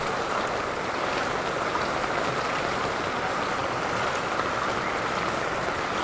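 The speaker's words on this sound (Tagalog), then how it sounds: "Sobrang lakas talaga ng ulan." Heavy rain pours down during flooding in the Philippines, a dense, continuous roar of water with no pauses and no voices.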